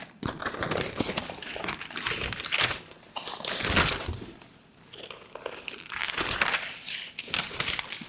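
Sheets of quilting foundation paper, 48 inches long, are handled and crinkled at close range, giving a continuous dry rustling with louder crumpling bursts and a brief lull partway through.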